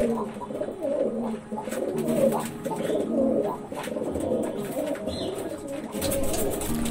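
Kaldom pigeons coo in repeated low, throaty rolls, fairly close and overlapping, with a steady murmur of background noise beneath them.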